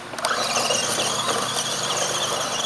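An ECX Ruckus 1:18 RC truck with 100-weight oil in its stock shocks spins donuts, its electric motor giving a loud, steady high-pitched squealing whine that holds nearly constant throughout.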